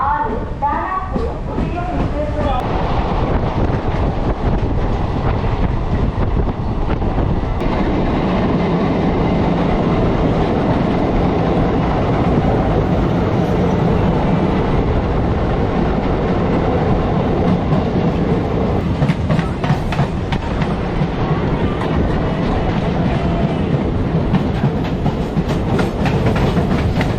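A MEMU local train from Chennai Central to Tiruttani in motion near Perambur and Villivakkam: a loud, sustained rumble with rhythmic wheel clatter, a louder clattering patch late on, and occasional voices under the noise.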